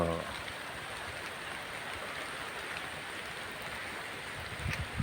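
Steady outdoor rain falling as a dense, even hiss of drops on trees, grass and roads, continuous and fairly close, with a brief rustle near the end.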